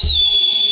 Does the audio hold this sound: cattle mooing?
no